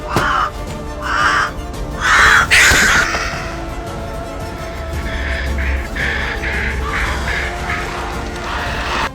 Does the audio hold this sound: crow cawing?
yes